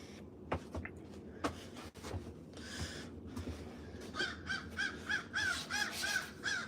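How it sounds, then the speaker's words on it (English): Crows caw outside a woodworking workshop, first in scattered calls and then in a run of repeated rhythmic caws. Sharp knocks and background noise sit underneath. "crows and everything else outside"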